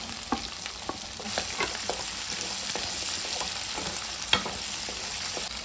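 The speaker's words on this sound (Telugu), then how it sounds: "సన్నగా తరిగిన వెల్లుల్లి ముక్కలు, ఉల్లిపాయ ముక్కలు వేసేద్దాం. క్యాప్సికమ్ ముక్కలు వేసేద్దాం." Finely chopped garlic, onion and capsicum frying in a pan for chicken lollipop, a continuous bright sizzle with repeated scraping stirs and one louder clack, close and steady, with no voices.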